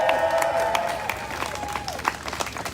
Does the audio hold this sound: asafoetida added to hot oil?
no